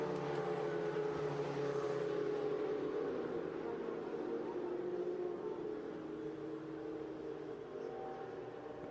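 Ferrari Challenge race cars at a Japanese circuit roll slowly back toward the garages under a red flag, a steady blend of idling engine hum held at a moderate distance throughout.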